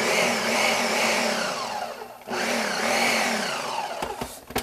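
A Ninja food processor runs loud and close as it chops guacamole ingredients, a steady motor whine that dips briefly in the middle and then rises again, ending with a few knocks as the machine is shaken.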